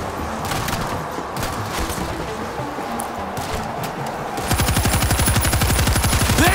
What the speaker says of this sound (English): Machine gun is ready!